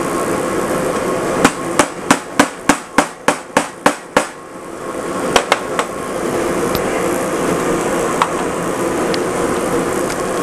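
A hammer drives a chisel into wood while a DIY Valentine's gift box is being made: about ten quick, evenly spaced sharp taps, then a few scattered strikes over a steady background hum.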